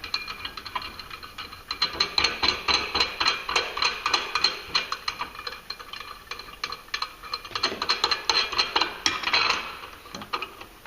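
Small screws being tightened by hand on a thin metal clutch plate of a 2014-15 Polaris Ranger 900, a close, irregular run of light metallic ratcheting clicks and taps with brief pauses, no talking.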